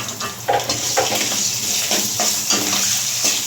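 Potatoes sautéed in a pan with cumin paste and ginger paste give off a steady sizzle, broken by repeated scraping stirs about every half second, close by with no talking.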